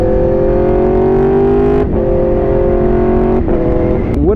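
BMW S1000RR sport motorcycle engine running loud and close, a hard, steady high-revving drone with a couple of brief dips as the revs shift, no voices.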